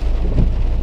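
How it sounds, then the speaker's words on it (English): Steady rain falling outdoors with a low rumble of thunder swelling midway, a continuous broad wash of sound with no voices. "Instead, you just hear the rain."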